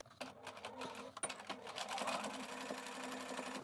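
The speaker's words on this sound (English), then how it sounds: "we're just going to sew the dart" A domestic sewing machine stitches a trouser dart with a straight stitch, starting in short stop-start bursts before settling into a faint, steady rapid whirr of needle strokes, close and alone.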